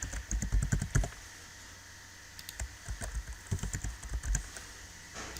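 Computer keyboard typing comes in close, quick bursts of light key clicks, with a pause in the middle before another run of taps starts; no one speaks.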